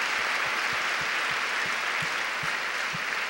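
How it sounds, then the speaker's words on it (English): Audience applauding volunteer teachers at a TEALS event, dense steady clapping from a sizable crowd with a few distinct near claps in rhythm, continuous throughout. "So also give them a round of applause for sure."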